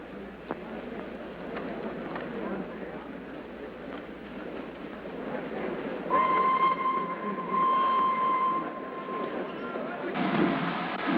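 A train travelling, in a 1936 film, with a continuous rumbling ride under the scene and a sustained whistle or horn tone that sounds midway and again near the end.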